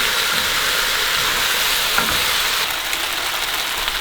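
Food sizzles and crackles steadily in a hot frying pan while being stirred during meal prep, a dense hiss close up that dips slightly partway through, with no talking.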